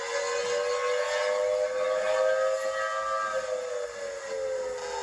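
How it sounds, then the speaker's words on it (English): A siren wails in a long, steady rise and fall, its tone gliding slowly downward toward the end; a tornado warning siren sounding continuously and fairly loud, with no voices. "Don't know why he sets off a tornado siren."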